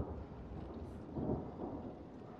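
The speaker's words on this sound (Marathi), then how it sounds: "वेदर बघा खराब झालं आणि ढग गडगडत आहेत" Distant thunder in Ladakh, between Pangong and Hanle, rumbling low and steady, swelling briefly louder midway before settling back into a soft continuous roll.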